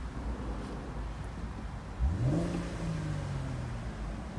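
A Chevrolet Camaro RS convertible's 3.6-litre, roughly 310-horsepower engine idles with a low rumble, then revs up sharply partway through and holds a higher, steady hum. No one speaks.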